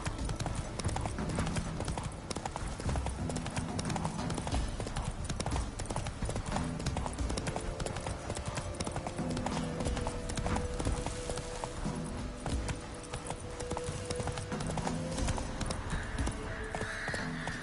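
Hooves of the horse Roach clip-clop steadily in The Witcher 3 video game, a continuous walking rhythm under game ambience and music, with a character's voice speaking briefly.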